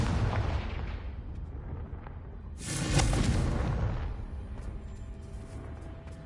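Casting Confringo in Hogwarts Legacy, a fiery blast erupts midway with a loud, broad explosive whoosh that swells and fades over a rumbling game background.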